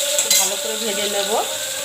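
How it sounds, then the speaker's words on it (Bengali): Pointed gourd and potato pieces frying with salt and turmeric in a pan, a soft steady sizzle with a brief clink of utensil stirring near the start. "একসাথে পটল আলুটা একটু ভেজে নিচ্ছি"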